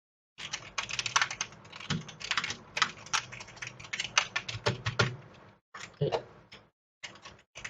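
A computer keyboard is typed on in quick bursts of close, crisp clacking keystrokes, with brief pauses between runs, during a programming lesson on arrays and strings.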